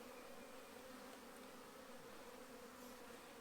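Honey bees hum as they are moved into a new hive, a soft, steady, even buzz from many insects with no voices over it.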